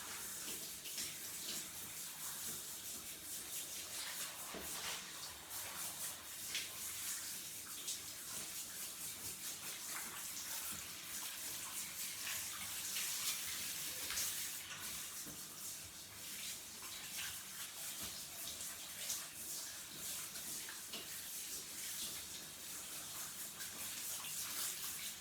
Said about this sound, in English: Turn the shower on.